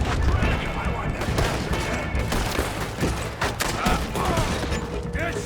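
Dense gunfire in the video game Red Dead Redemption 2: rapid overlapping shots crackle continuously through a firefight, loud and close, mixed with shouting voices and game noise.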